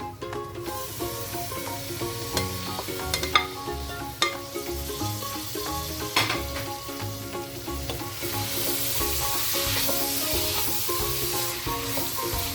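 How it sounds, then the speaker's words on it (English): Tomatoes going into onions frying in oil for chicken dum biryani, a loud close sizzle with stirring clinks and scrapes that swells into a steady hiss. "Once the oil starts separating from the onions, you can add in the tomatoes."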